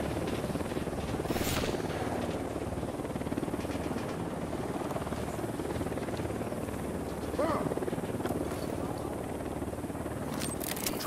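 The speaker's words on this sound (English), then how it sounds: "Helicopter inbound." Helicopter from the video game Ghost Recon Wildlands, a steady rotor drone and whine running throughout at moderate distance, blended with game ambience and occasional faint clicks.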